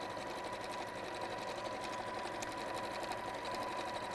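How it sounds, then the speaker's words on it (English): Sewing machine stitching fabric around quilted borders, a continuous even motor hum and needle chatter, close but quiet, running throughout with no speech. "I would sew all the way around there as well to just give it a little bit of a quilted look."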